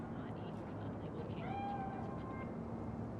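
A cat meows once in Cyberpunk 2077, a short rising-falling cry at moderate distance over a steady low ambient hum, with people talking nearby.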